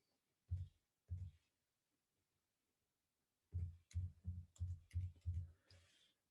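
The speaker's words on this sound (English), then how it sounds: "So if I start typing," Keystrokes on a computer keyboard: two isolated taps, a pause, then a quick run of about seven close, crisp key presses, with no talking.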